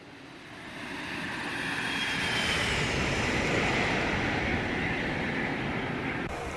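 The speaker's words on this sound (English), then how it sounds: "Good flyby sounds." A simulated jet airliner, an IXEG Boeing 737 in X-Plane 12, sweeps past in a flyby: a loud engine roar swells over a couple of seconds, holds broad and steady with a faint descending whine, then eases slightly, with no talking.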